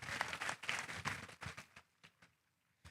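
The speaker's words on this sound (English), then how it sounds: "let's give them one more round of applause for just the time and effort that goes into these projects" An audience at a market broiler sale claps for the exhibitors, with a dense burst that thins to a few scattered late claps and then quiet.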